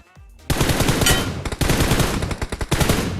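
Loud automatic gunfire from the shooter game PUBG Mobile, with dense rapid bursts broken by brief pauses, sounding close and continuous with no talking.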